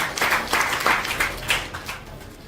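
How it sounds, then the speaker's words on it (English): An audience claps for an author presenting his thirteenth academic and policy book, a former Chief Minister of Sierra Leone; a burst of applause swells early, then thins and fades toward the end. "So even as you applaud,"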